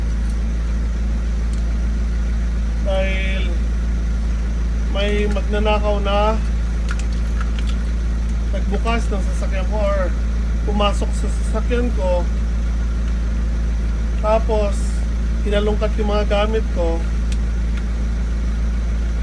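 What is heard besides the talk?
truck engine idling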